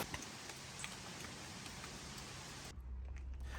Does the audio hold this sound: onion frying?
no